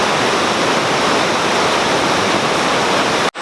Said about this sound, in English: we're just walking down along the Mossman River and through the surrounding forest